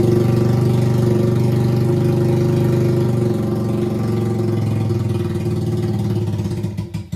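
A Keeway CR152 motorcycle engine runs steadily after a wiring repair, a loud close idle with a firm low thrum that wavers and briefly sputters near the end.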